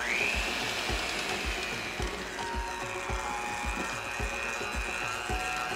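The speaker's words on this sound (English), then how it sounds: "Add 2 tablespoons to start with, then we'll mix it up and see if we need any more." An apple cider glaze is stirred in a bowl, giving a steady run of rhythmic clicks and scrapes close up over a faint background whine, with no talking.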